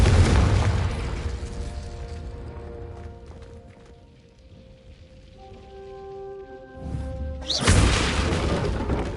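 Confringo fire spell explosions in Hogwarts Legacy, loud booming bursts at the start and again near the end, with a quieter stretch of crackling and tonal hum between them.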